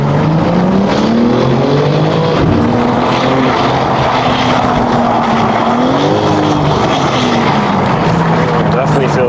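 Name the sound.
BMW G80 M3 car driving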